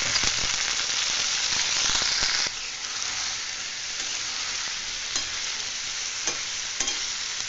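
Vegetable pieces (eggplant, potato and tomato) hit hot oil with chili thecha and set off a loud, constant sizzle, broken by a few scraping stirs. The sizzle eases slightly once the pieces settle in the pan.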